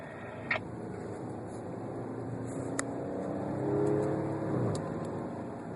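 Race car at Infineon Raceway pulling up through the gears, a steady engine drone that swells toward third gear with rising harmonic sweeps, heard from inside the car.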